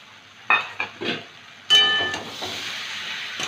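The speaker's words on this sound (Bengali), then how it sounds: "দিয়ে খানিকক্ষণ কষিয়ে নেব।" Kohlrabi curry with green peas being sautéed in a pan: a few sharp scraping stirs, then a burst of hissing sizzle that fades to a softer fry.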